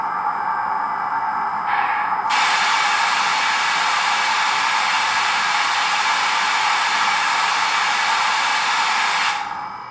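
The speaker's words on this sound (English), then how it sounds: "that was the sound of the pop valves going off as the blower got everything hot" Pop valves on an O scale Southern Pacific AC-12 model steam locomotive blowing off while the blower runs, a loud steady hiss that starts, swells and holds for several seconds, then cuts off.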